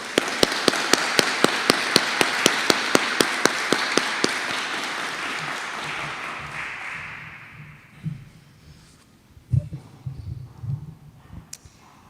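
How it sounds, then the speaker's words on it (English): Audience applause for the guests at a religious liberty summit: a steady wash of clapping with several sharp, loud claps on top, fading out after about eight seconds into quiet room noise with faint movement. "So let's give a round of applause for our excellent guests."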